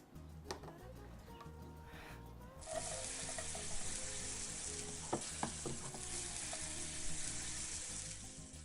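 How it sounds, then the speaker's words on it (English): Spring onions sizzle in rice bran spread in a pan, a steady frying hiss that jumps louder partway through. Scattered clinks and stirring knocks sit on top of it, and there is no talking. "You don't need much, just enough to get the spring onions sizzling."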